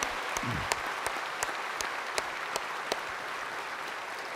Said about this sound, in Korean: 여러분 저분들에게 큰 박수 한번 해주시면 고맙겠습니다